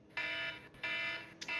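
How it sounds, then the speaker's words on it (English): An alarm sounds in steady repeated electronic beeps, three long tones separated by brief gaps, loud and close, with no talking. "Alarm! Alarm!"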